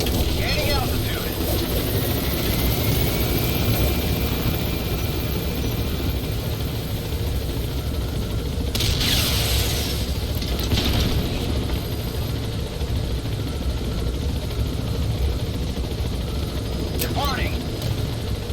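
In Metal Gear Solid V: The Phantom Pain, an extraction helicopter gains altitude with a steady, loud rotor drone and engine rumble that fills the scene, with occasional brief whooshes and a voice speaking over it.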